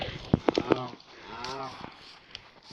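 Cattle mooing: a few short lowing calls, then one long, drawn-out moo that sinks in pitch, heard at moderate distance with no talking.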